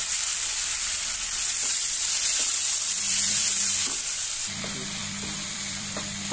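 Chopped tomatoes sauté with ginger and garlic in a pan for duck egg keema, a steady close sizzle with occasional scraping stirs and clicks.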